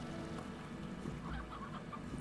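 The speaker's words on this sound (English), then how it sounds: "Oh, that's a hen." A hen clucks in the video game Slime Rancher, giving a few soft, close clucks over a steady low game ambience, with no talking.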